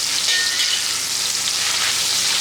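Pinakbet, a Filipino vegetable stew, stirred in a hot pan, giving a steady, loud sizzle with no pause and no voices.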